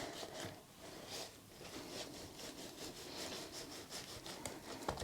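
Mini soil blocker scraping across wool pellet seed-starting soil, a faint, close, gritty rasping of repeated short strokes with no talking.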